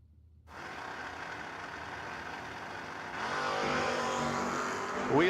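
A Chevrolet Monte Carlo no-box drag race car launches off the line at a drag strip, its engine roaring loud and steady, then surging louder as it pulls away.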